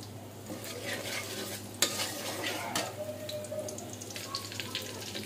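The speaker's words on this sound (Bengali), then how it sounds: "রসুন কুচি দিয়ে দিচ্ছি" Chopped garlic frying in oil in a pan for chicken chowmein gives a soft, continuous sizzle, with a spatula stirring and scraping now and then, close and moderately quiet.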